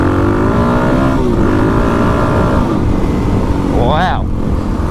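A dual-sport motorcycle, a 2021 Kawasaki KLX300, Yamaha WR250R or Suzuki DR-Z400, pulls hard under acceleration with rising engine harmonics, loud and close against heavy wind noise, with a brief rising whine near the end.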